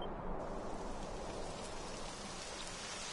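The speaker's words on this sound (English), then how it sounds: "Typical. It would have to go and start raining, wouldn't it?" Rain pours steadily in the Dragon Quest XI video game, a dense, even hiss of falling drops that holds constant throughout with no voices.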